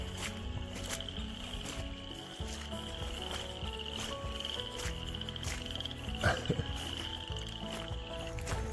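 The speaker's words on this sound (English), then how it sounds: "Listen to the frogs." Dense chorus of many frogs croaking loudly and continuously along the Florida Trail, overlapping calls with a faint insect-like hiss and a few soft footsteps.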